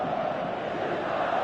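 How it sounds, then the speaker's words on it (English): A stadium crowd in a PS4 football video game roars in a dense, continuous wash of cheering and noise, steady and fairly loud with no break. "you can feel and hear how the crowd are reacting to all of this"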